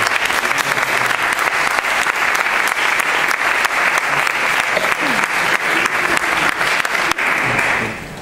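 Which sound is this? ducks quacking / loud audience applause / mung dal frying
loud audience applause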